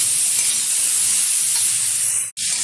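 Fried okra and potato curry with tomato, cumin powder and sugar being stirred in a pan, giving a steady loud sizzling hiss throughout with a brief break near the end, no talking.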